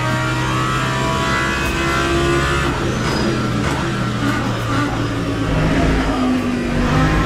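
A race car in the Le Mans Ultimate racing video game roars continuously at close range, its engine note holding loud and steady with tonal whine layered over the rumble and no talk.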